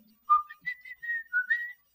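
Someone whistles a short, lilting tune, a few clear rising and falling notes, close and alone in quiet surroundings.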